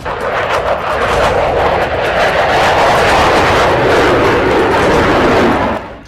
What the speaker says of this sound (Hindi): ये लड़ाकू विमान अब बाइडेन का सबसे बदनाम फाइटर जेट बन चुका है